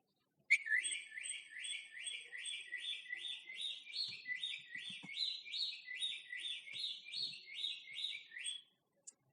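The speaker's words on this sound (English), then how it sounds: "Sound of bird." A bright, repeated chirping bird call, a quick run of rising notes in steady rhythm, clear and alone against silence.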